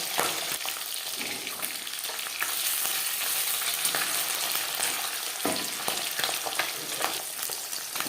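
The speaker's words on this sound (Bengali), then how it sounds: "অল্প অল্প করে আমি মাছ ভেজে নেব" Pabda fish fry in hot oil in a pan, a steady bright sizzle with occasional crackles and scraping stirs, close and continuous.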